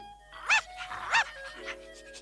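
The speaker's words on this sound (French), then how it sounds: "Et un petit chien." A small cartoon dog gives two short, bright barks close up, evenly spaced about half a second apart, followed by a softer yip, with a sustained musical tone entering at the end.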